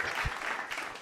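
A brief burst of applause from a live episode audience, a crowd clapping steadily at moderate volume.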